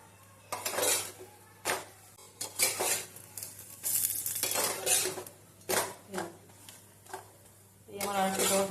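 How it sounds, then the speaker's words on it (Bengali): A paratha fries in oil in a pan over medium heat, with repeated metallic scrapes and clatters of a spatula on the pan over a soft sizzle, in short bursts close by. "এটাও মিডিয়াম আঁচ করে সেম প্রসেসেই ভেজে নেব।"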